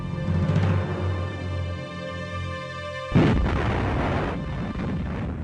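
During a wartime bomber raid, a droning aircraft engine hum gives way to a sudden loud bomb blast, followed by a rumbling roar that lingers to the end.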